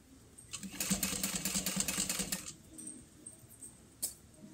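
A sewing machine stitching a handbag, a short burst of rapid mechanical whirring lasting a couple of seconds, then stopping, followed by a single sharp click, close and moderately loud.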